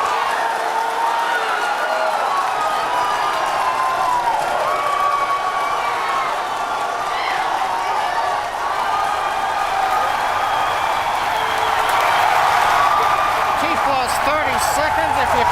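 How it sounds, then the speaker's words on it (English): Mission control room staff cheer and applaud during the Falcon Heavy test flight launch, a loud, dense, sustained roar of crowd voices and clapping that swells toward the end, with speech mixed in. "if you can hear me over the cheering"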